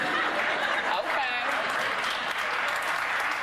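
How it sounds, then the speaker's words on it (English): A TV talk-show studio audience claps in sustained, dense applause mixed with scattered chuckles, filling the room evenly for a few seconds. "Why are you clapping."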